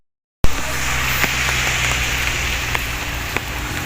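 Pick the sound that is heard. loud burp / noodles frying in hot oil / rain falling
rain falling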